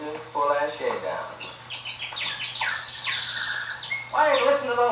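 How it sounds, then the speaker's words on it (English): On an old comedy record, birds squawk and chirp continuously in a busy, warbling chorus, with a steady low hum of the old recording beneath. "Why, listen to those birds. Listen to their song of joy."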